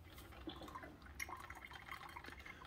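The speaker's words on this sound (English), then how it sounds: "It's going to finish brewing what's left of the vinegar and the water." A Walmart Mainstays 12-cup programmable coffee maker brewing a vinegar and water descaling cycle: steady soft gurgling and dripping liquid, low and continuous, with no voices.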